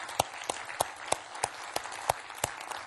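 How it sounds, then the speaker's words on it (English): A small audience at a technology day webcast gives a thin round of applause, with sparse, fairly faint claps and a few sharper individual claps spaced through it. "let's give yourself a nice round of applause"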